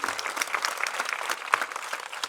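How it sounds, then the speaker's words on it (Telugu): A short burst of enthusiastic clapping from a group at a devotional gathering, dense and continuous with slightly sharper claps standing out near the middle. "ఒకసారి గట్టిగా చప్పట్లు కొట్టాడు."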